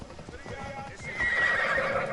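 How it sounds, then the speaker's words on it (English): Horse hooves clip-clop in a steady rhythm close by, and a horse neighs partway through, with some voices in the background. "So we're gonna take our horse."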